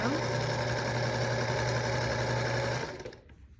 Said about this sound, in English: I'll get to my next piece and I'll sew that together